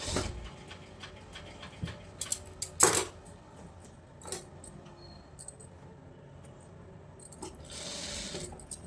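Domestic sewing machine running in short stitching bursts along the neckline of a lined blouse, close and fairly quiet, with clicks and brief pauses between runs as the fabric is turned.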